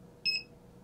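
An ESP32-driven buzzer in a car reverse distance warning setup gives one short, high electronic beep, clear against a low background hum.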